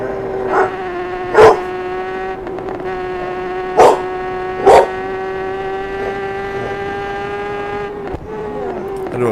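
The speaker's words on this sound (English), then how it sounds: "Stop barking at me" A dog named Hooper barks in short, loud bursts about four times, standing out over a steady, droning motorcycle engine hum from a racing game.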